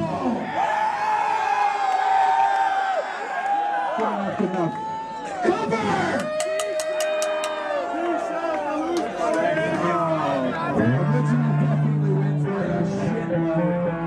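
A live audience screams and whoops loudly in bursts at a comedy show, crowd yells rising and falling over several seconds with chatter between.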